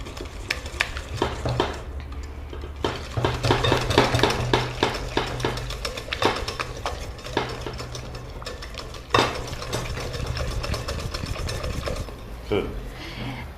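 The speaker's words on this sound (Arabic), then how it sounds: "نخلطوا مليح بعد ما درنا السكر والفارينة والفاني" A spoon or whisk stirs a cake batter of sugar, flour and vanilla in a bowl, a faint continuous scraping and clinking with a low hum underneath.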